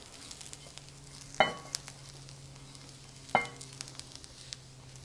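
Onions and garlic, fried until browned for potato and cheese pierogi, sizzle steadily in a pan with a low hum underneath, and two sharp clatters from stirring or utensils break in.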